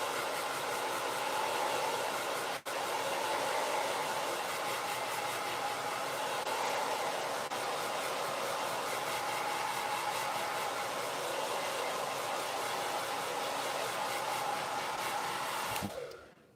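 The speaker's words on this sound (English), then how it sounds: "I'm moving the hairdryer around" A hair dryer blows steadily at close range, a continuous broadband whoosh with a brief click early on, cutting off abruptly at the end.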